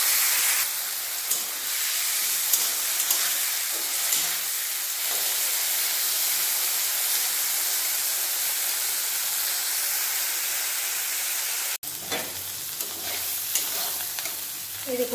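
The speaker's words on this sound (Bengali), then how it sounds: "লবণ হলুদ মাখানো চিংড়ি মাছগুলো ভেজে নেব।" Shrimp coated in salt and turmeric frying in hot oil in a kadai, a loud continuous crackling sizzle that briefly cuts out and resumes with spattering and stirring scrapes.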